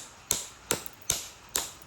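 Four sharp, evenly spaced hammer strikes on stone, shaping a stone hook, ring out up close, each a crisp crack with a brief fading tail.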